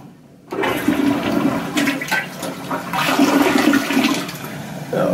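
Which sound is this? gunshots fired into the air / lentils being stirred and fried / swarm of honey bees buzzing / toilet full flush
toilet full flush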